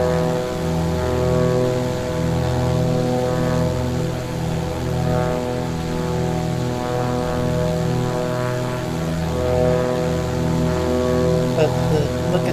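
Propeller aircraft engine in Microsoft Flight Simulator, a loud steady droning hum with layered tonal whine, continuous and close, with a voice talking over it.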